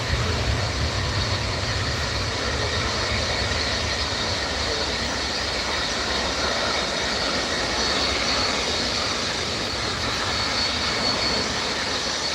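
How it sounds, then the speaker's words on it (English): An Ethiopian Airlines Boeing 787 Dreamliner on approach into Manchester Airport, a steady, loud jet roar with low rumble holding constant throughout, heard from the airport's southside with no talk. "Ethiopian Dreamliner coming in now."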